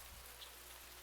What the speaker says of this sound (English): All the while, the rain continued pouring heavier and heavier.